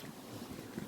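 Gusty wind buffets the microphone on an outdoor walk during torrential rain, producing a steady, rough low rumble that swells in brief louder gusts toward the end, with no clear talk.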